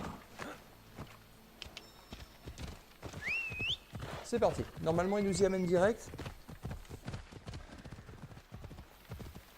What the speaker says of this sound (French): on fait appel à notre cheval qui arrive